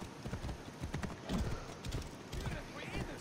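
Horses clip-clop along a road in Assassin's Creed Origins, with quick, close hoofbeats and an occasional whinny under chatter.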